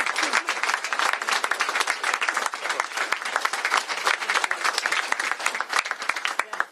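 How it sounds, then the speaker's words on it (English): Dense, sustained audience applause at a governor's bill signing, many hands clapping steadily and loudly throughout with no break. "Please give her another round of applause."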